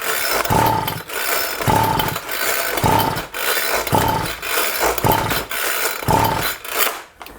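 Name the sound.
pull-starting a Homelite Vac Attack leaf blower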